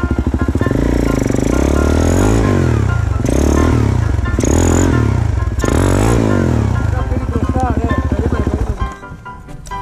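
A motorbike engine revs and drones loudly up close, surging and dipping in waves, with a voice talking over it before it fades.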